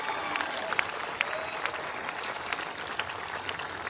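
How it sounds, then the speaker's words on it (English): Moderate applause from an audience at a municipal band concert, honoring the trombone section; a steady patter of clapping with a few sharper individual claps, at medium distance. "Give the trombone section another round of applause."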